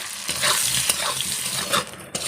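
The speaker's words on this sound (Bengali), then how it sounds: "এবার পটলগুলোকে ভেজে নেব। লবণ দেব, হলুদ দেব, লাল করে আমি এগুলোকে ভেজে নেব।" Pointed gourd pieces frying in oil with salt and turmeric, giving a dense continuous sizzle and crackle with a few stirring bumps, close and steady, no voices.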